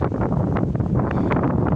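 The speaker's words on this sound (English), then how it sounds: "listen to that wind" Strong wind on the summit of Mount Katahdin roars and buffets the microphone in steady gusts, a dense rushing noise with no other sounds.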